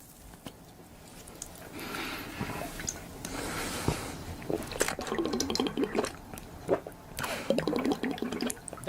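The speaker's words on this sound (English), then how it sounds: "You know that ASMR where they be drinking like slurp juices?" Wet slurping and sipping of drinks in ASMR style, close and intimate, with repeated liquid gulps and drips growing busier and louder toward the end.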